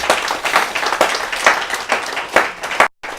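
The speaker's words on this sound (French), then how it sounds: "Applaudissons Jésus-Christ." Church congregation applauding during a sermon: a dense, crackling burst of many hands clapping with pulsing surges, then it cuts off sharply near the end before picking up again.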